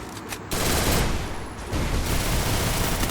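Rapid gunfire in the battle royale video game Garena Free Fire, a loud dense burst of automatic shots that runs almost the whole time, with a brief gap near the start.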